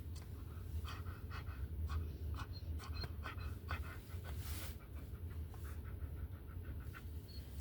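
Dogs pant steadily and give a few soft whimpers close by inside a vehicle, over a low continuous road rumble, with no talking.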